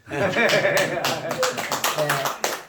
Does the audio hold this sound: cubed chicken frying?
no